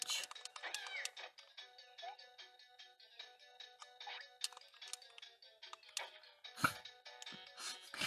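A cartoon cat meows repeatedly in a Simpsons video game, the cries mixed with game sound effects and occasional clicks and ticks throughout.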